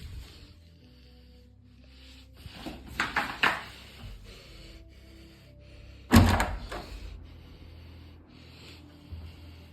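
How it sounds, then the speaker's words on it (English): Scuffs and rattles build up, then a single loud door slam booms out and fades into quieter knocks and shuffling. "a door slams shut with incredible force, the sound echoing through the halls like a thunderclap"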